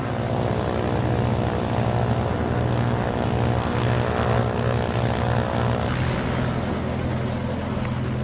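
Propeller airplane engine during a pilot training flight, a loud continuous droning hum with steady tonal whine, heard from inside or close by, with no talking.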